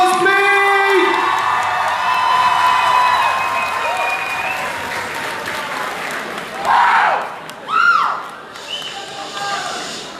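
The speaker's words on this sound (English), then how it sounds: "Can we have a huge little round of applause," A large crowd at the Charity Week 2019 international annual dinner in London bursts into loud applause with whoops and cheers, while voices call out and rise in bursts near the end.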